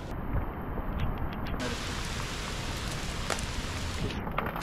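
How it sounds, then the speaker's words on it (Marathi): Dense, continuous roar of heavy monsoon rain pouring down in the Sahyadri hills at Savlya Ghat, steady and loud throughout with no voices. "आणि आता मुसळधार पाऊस चालू झाला इथे"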